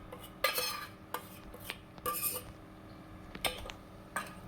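Cooked dal being stirred together with chilli powder and tamarind juice, a spoon scraping and clinking against the pot in sparse, irregular knocks, quiet and with no talking.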